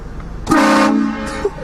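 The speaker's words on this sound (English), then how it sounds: "That's a loud horn, huh?" A loud train-style air horn blasts once as a prank, a sustained harmonic honk of about a second that starts abruptly, with a short second toot trailing after it.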